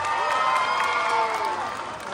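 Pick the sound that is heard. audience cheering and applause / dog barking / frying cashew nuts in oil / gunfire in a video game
audience cheering and applause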